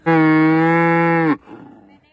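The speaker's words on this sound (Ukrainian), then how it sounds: "А це корова рябка." A cow gives one loud, close, sustained moo lasting over a second, then it cuts off, leaving faint rustling.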